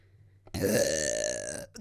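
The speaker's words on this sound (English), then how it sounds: "I gotta stop fucking burping" One long, loud, resonant burp from a man sounds right up close, lasting just over a second.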